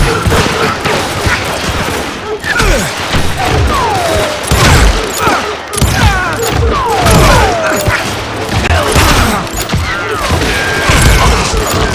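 Rapid gunfire from the Western shooter game Call of Juarez: Gunslinger, several loud shots and booms crowding a busy, constant mix of game music and effects for the whole stretch.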